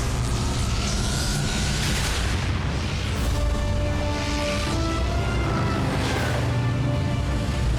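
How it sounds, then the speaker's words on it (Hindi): A loud explosion in the Hindi dub of the animated series Transformers Prime, heard as a dense, sustained roar of booming rumble and crackling debris that fills the whole clip. "वो धमाका किसने किया?"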